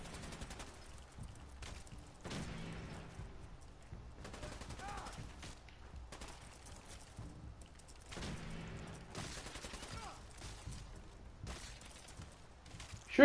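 Repeated gunfire in Fallout 4, played with a minigun, comes as broadband bursts at a moderate level over a busy game soundscape, with a few sharper shots scattered among them.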